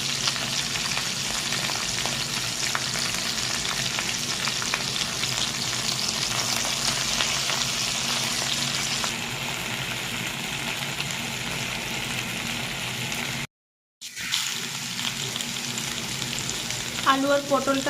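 Potato and pointed gourd frying in a pan with turmeric and salt, a steady loud sizzle that runs unbroken before a brief silent cut, then resumes with a few stirring clinks near the end.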